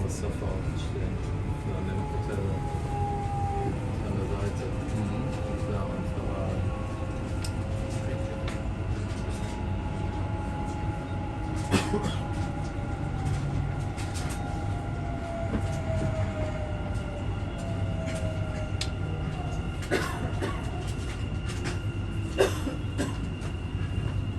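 A Dubai Metro train runs between stations toward Burj Khalifa/Dubai Mall, giving a steady loud rumble of wheels and motors with faint squeals and occasional clicks throughout, and passengers can be heard talking faintly.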